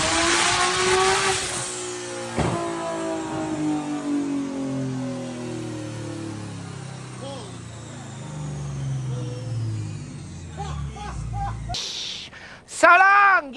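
A car fitted with a Precision 6870 turbo and an upgraded fuel system revs hard on a dyno, a loud sustained engine roar with rising and falling pitch throughout, ending in a few sharp bursts.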